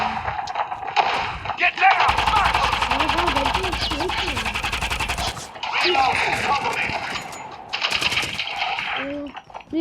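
Automatic weapon fire in the mobile shooter game Call of Duty Mobile, long rapid bursts of gunshots with short pauses between them, loud and close, mixed with other game effects.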